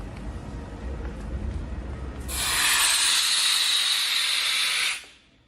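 Steam venting from a pipe liner during inversion-lining steam curing, at reduced pressure: a low rumble gives way to a sudden loud, steady hiss that holds for about three seconds, then cuts off abruptly.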